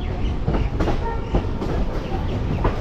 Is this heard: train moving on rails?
yes